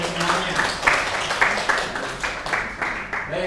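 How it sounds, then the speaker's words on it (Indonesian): A small group claps for Khairul and Anggun in a classroom lesson, producing a modest, steady patter of hand claps over a few seconds while a teacher keeps speaking. "tepuk tangan lagi kepada Khairul dan Anggun dan semuanya"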